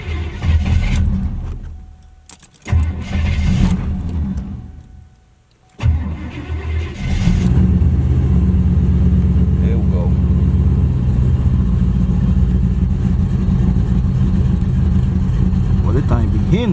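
A supercharged Oldsmobile Cutlass engine cranks and fires, stumbles briefly, then settles into a loud, rough cold idle that rumbles steadily while warming up, with someone talking over it early on.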